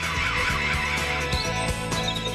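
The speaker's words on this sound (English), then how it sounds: "how can a bird this small squawk up a noise this loud?" A small bird squawks loudly and repeatedly in harsh, raspy bursts, close and continuous over a steady noisy background.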